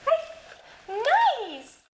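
A young guide dog puppy gives a short whining yelp and then a longer rising and falling howl-like bark, loud and close, with a brief silence between the two sounds.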